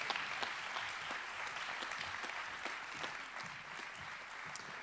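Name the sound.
applause at an anniversary award ceremony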